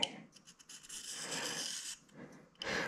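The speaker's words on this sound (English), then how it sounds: "the cutter grinder here is really kind of nice to do delicate hand grinding with a little rest like that" Hand grinding of a small workpiece against a wheel on a tool and cutter grinder with a small rest, giving a steady rasping scrape that pauses briefly and then resumes, close and moderately loud with no talking.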